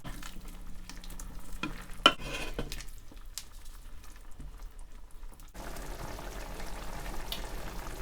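Uncovered Chinese-style braised pork belly simmers in a pot, a low steady bubbling and sizzle with occasional scraping and clinks as it gets stirred, one sharper knock near the start, the texture shifting a little louder toward the end.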